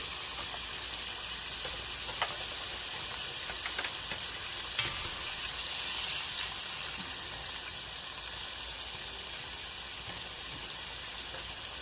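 Fish sizzling steadily in hot frying oil at a fish fry, a continuous close crackle with occasional small pops and clinks, no voices.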